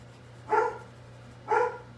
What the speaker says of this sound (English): I don't know what Paisley is barking at